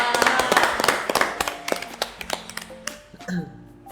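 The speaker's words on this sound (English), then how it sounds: "Can we give it a round of applause?" A small group claps after a story is told, a brief run of sharp, uneven claps that thins out to a few isolated ones, with faint voices and tones in the background.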